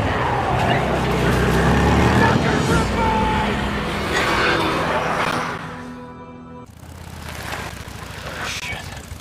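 A motorbike revs and pulls away during a tense, loud action scene in an animated film, engine noise steady and close before dropping off abruptly, with shouting voices over it.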